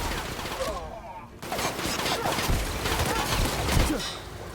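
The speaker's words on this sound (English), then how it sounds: "So it charges up a little bit, and then POW! Shoots a little barrage of rockets." A charged rocket-barrage gun in The Outer Worlds fires a rapid volley of rockets after a brief charge-up, with loud overlapping blasts and explosions in the middle of game combat.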